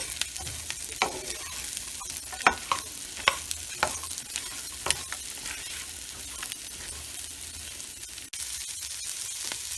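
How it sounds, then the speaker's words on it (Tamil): Onions sizzle steadily in a pan for paneer butter masala while a spoon stirs and scrapes them, giving a continuous frying hiss with sharp clicks from the stirring, close up with no talking. "வெங்காயம், இதை நல்லா வதக்கி விட்டுக்கோங்க."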